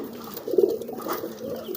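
A pigeon cooing in a courtship display, one low throaty coo swelling briefly then trailing off, close and fairly soft over faint background noise.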